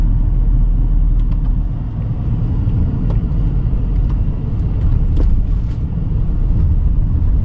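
Steady low road rumble from a car driving on a narrow road between Colombo and Kandy in Sri Lanka, heard from inside, with faint ticks and knocks over a constant engine and tyre drone.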